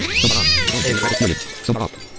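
A cat in the game Bokurano Daibouken III gives several short, close meows in quick succession, sounding clear and slightly synthetic over faint game sounds.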